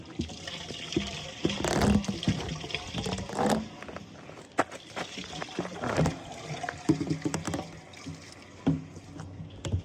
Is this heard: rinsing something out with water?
yes